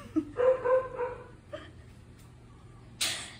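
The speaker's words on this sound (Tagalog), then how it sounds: "Kasi apat po yung aso namin dito." A dog barks a few short, fairly close times in a quiet home setting, the yips spaced out over a couple of seconds, followed by a faint rustle.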